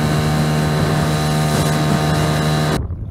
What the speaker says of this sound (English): We're gonna drive our own boats there, skiffs.